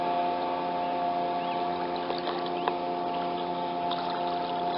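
A fast motorboat at least six metres long drones steadily on open water during a duck hunt, its engine hum even and moderately distant throughout.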